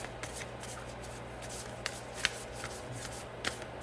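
Oracle cards are shuffled by hand, giving a continuous soft riffling and sliding with occasional sharper snaps, close and fairly quiet against a faint steady hum.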